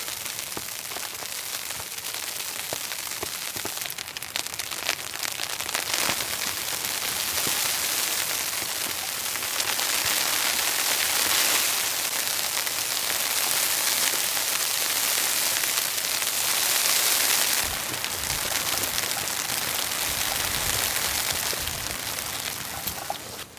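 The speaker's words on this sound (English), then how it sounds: "it's quite a bit of hail, sleet, snow and ice coming down" Hail, sleet, snow and ice pour down steadily on a tent during a camping storm in New Zealand, a dense continuous hiss and patter that swells and eases over nearly half a minute, with no voices.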